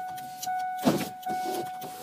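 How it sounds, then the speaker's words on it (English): A car's power window motor whirs briefly as the window is cracked open on a hot day, a faint low hum inside a quiet cabin with a soft thump midway. "I'm gonna have to crack the window"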